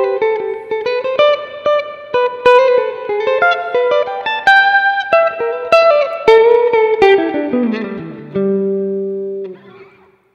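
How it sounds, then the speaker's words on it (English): Electric guitar played through a UA OX Box, clean melodic single notes and chords with a generous reverb tail ringing out as the phrase ends. "Engage the reverb, has a good amount of reverb on"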